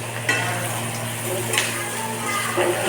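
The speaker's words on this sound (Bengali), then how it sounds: "এবারে আমার এখানে ভেজে রাখা চিকেনগুলো ভেজে রাখা চিকেনগুলো এটাকে আমি ভালো করে নাড়িয়ে নেবো" Fried chicken pieces stirred in a hot pan for a dry chilli chicken, a steady sizzle with scraping utensil strokes at intervals, close and moderately loud, under a constant low electrical hum.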